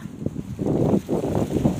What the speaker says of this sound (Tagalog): Talagang hangin lang talaga siya. Ang lakas.